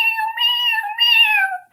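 A voice imitates a cat, giving three drawn-out meows in quick succession, close and loud, then falling silent.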